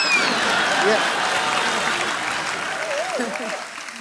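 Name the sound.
studio audience applause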